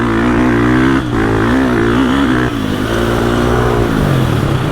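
KTM EX350 motocross bike ridden in gear, its engine droning loud and steady with rising and falling pitch as the throttle shifts, close up and continuous with no talk.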